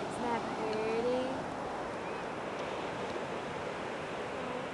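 Ocean waves wash onto a beach in a broad, soft, continuous roar, with faint voices drifting over the surf.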